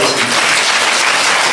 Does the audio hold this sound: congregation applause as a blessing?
yes